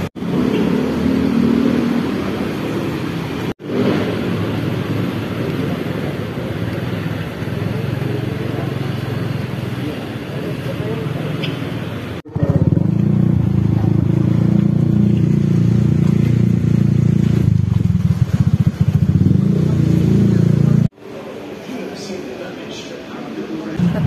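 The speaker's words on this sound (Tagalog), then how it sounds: "Pag-init po ng motor." A motorcycle engine warming up idles and revs nearby, growing louder and rougher midway, with short breaks and some clatter in between.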